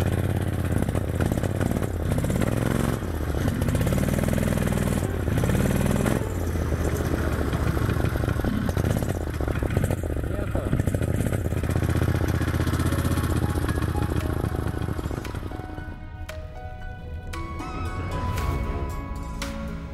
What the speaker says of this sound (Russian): По-прежнему двигатель работал только на одном цилиндре.